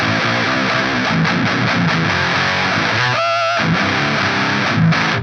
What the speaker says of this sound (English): So you got that fuzzy HM2-ish distortion.